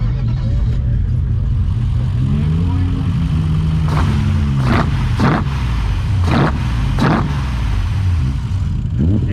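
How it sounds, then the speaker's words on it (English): Classic Japanese cars at an outdoor car show, engines idling and revving in several short bursts over a steady rumble, with people talking nearby. "Everyone else is revving their cars, why can't we?"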